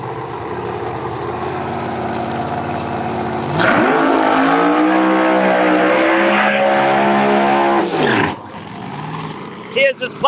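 A late model Chevrolet Camaro SS race car at Empire Dragway roars closer with a rising engine note, peaks loud as it passes, then fades and cuts off, with faint talk near the end.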